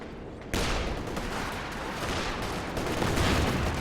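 Video game battle with rifle gunfire and infantry support gun shots: a sudden loud burst of dense, continuous firing and explosions that swells slightly toward the end, with no voices.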